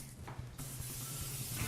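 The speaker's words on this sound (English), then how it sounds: "I'm going to spray that." Water spraying onto flour in a pretzel dough mixing barrel at a pretzel bakery, a soft continuous hiss with a few short bursts, faint and close.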